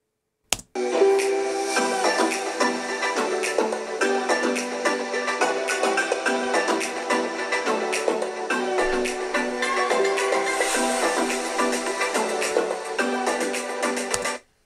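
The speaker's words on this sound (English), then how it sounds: "Speakers are downfiring and they sound like this." Test audio at 80% volume from the downfiring speakers of an Alienware M17 R5 laptop: loud, steady music with sharp percussive hits and a thin low end, running about fourteen seconds without talk.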